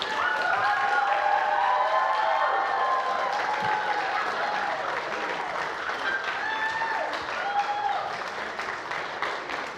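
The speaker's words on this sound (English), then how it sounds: "Raucous applause from the crowd this evening." Raucous applause and cheering from the crowd at a junior quiz bowl championship match, continuous loud clapping lasting throughout with some voices mixed in.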